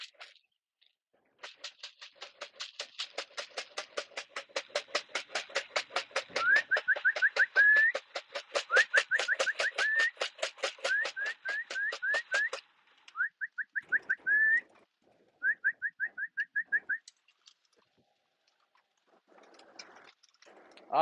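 Pigeons coo and warble in a long series of rapid pulsing calls broken by short pauses, close and clear against an otherwise quiet background.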